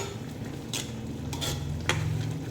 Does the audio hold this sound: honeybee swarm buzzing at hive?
no